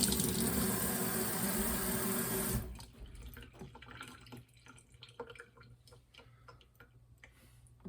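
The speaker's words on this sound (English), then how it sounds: "Just run both sides of your eyeglass lens through the lukewarm water." Lukewarm tap water runs loudly over eyeglass lenses as a steady close rush that stops abruptly, leaving faint drips and small clicks in a quiet room.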